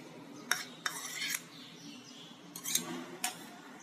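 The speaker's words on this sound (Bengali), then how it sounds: "বাটিতে দিয়ে দেবো 3 চামচি টক দই, এটা ফাটিয়ে দিতে হবে" Sour yogurt being whisked with a spoon in a bowl, a few quick metallic clinks and scraping strokes in two short bursts, close and fairly quiet.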